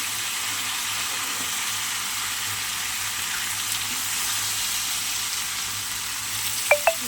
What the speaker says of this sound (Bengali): এখন লাউটা কুচিয়ে রেখেছিলাম ওটা দিয়ে দিলাম। চলো একটু নাড়াচাড়া দিয়ে